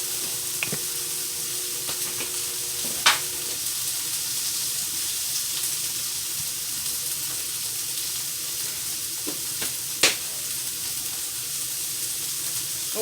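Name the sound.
butter melting and sizzling on electric griddle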